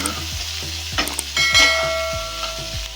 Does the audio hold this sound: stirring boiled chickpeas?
yes